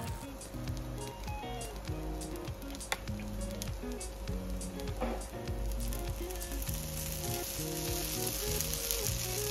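Adai dosa frying in sesame oil on a pan, a continuous close sizzle with crackling pops and a faint steady tone behind it, no talking.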